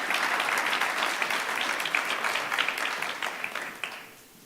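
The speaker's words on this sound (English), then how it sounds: "a big round of applause for the University of Johannesburg" Audience applause for the University of Johannesburg at an anti-corruption summit: a dense, steady round of clapping from a crowd that fades out near the end.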